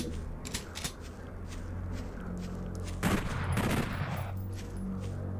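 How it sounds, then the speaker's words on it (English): A chain gun fires in modded DOOM, quick rattling shots in short bursts over a steady game hum, with a louder flurry near the middle and sparse clicks around it. "I just want to shoot it and see if it gave off light, because I wasn't sure if the chain gun was set up to do that."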